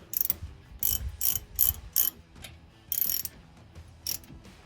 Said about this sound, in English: I'm going to tighten them by hand in a corner sequence